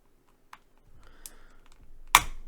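A single pre-lubricated 3-pin milk switch from a YUNZII AL66 keyboard pressed and released, giving a faint click, a soft rattle, then one sharp louder clack, close up in a quiet room.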